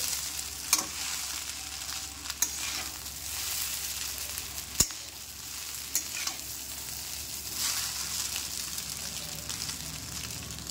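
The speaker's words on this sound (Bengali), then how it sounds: "চাউমিনটা আমি অলমোস্ট একটু ভাজা ভাজা করে নিয়েছি" Chowmein stir-fried in oil with onion and chili, a dense continuous sizzle broken by periodic stirring knocks and scrapes against the pan.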